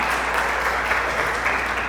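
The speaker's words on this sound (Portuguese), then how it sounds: "Uma salva de palmas para vocês" Audience applause at a Catholic talk on consecration to Saint Joseph, a steady wash of clapping from many hands filling the room without a break.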